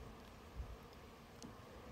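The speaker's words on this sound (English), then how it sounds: "some of the returning forager bees are desperately trying to get into the wrong entrance" Honeybees buzz around the entrances of two closely spaced beehives in late afternoon as returning foragers crowd in, giving a faint, steady hum with no voices.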